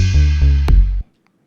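A single percussive drum hit from the Teenage Engineering OP-Z synthesizer's perc plug sample, loud and close with a sharp transient and a short ringing tail that cuts off abruptly, followed by near silence.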